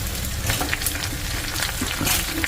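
Bitter gourd pieces, about 300 grams, sauté in hot oil with curry leaves and chillies, giving a steady close sizzle and crackle with occasional stirring scrapes throughout, no talking.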